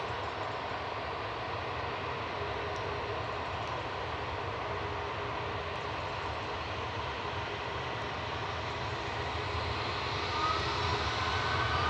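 EasyJet airliner departing Manchester Airport, a continuous broad engine roar heard from a distance, steady and sustained throughout with no voices.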